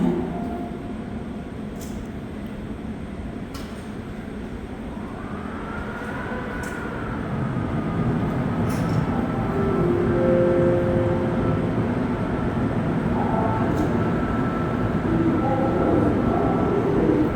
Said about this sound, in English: There's nothing more beautiful than the sound of an MR73 train starting up.